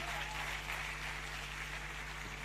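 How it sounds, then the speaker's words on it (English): Audience applause at a youth conference honouring a young girl, a steady wash of clapping heard from a distance over a low electrical hum. "Please, a round of applause for her."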